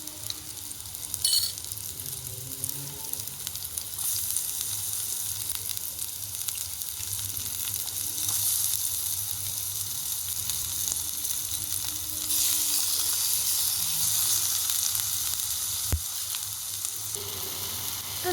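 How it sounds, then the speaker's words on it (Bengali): Chopped garlic, chilli, ginger and tomato sizzle in a pan, a continuous close frying hiss with small pops and occasional stirring scrapes throughout. "এবার দিয়ে দেবো রসুন কুচি, লঙ্কা কুচি আর আদা কুচি, এবার দিয়ে দেবো টমেটো কুচি।"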